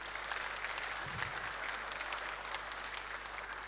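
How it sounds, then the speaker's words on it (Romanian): An agricultural conference audience gives a short burst of even applause for an intern, a room of people clapping steadily at moderate volume. "vreau să-l aplaudați"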